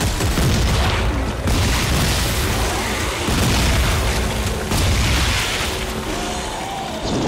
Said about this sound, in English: Them shotguns